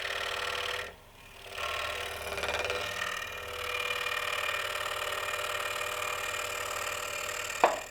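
A scroll saw cuts a wooden pattern with a steady, fast mechanical chatter and hum, broken by a brief pause near the start, close and continuous without talk.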